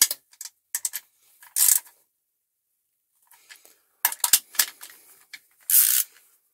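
Light metallic clicks and ratcheting ticks from a wrench snugging bolts on the transmission case of a Forza 350 scooter, in short separate bursts with quiet pauses between, close by and fairly soft.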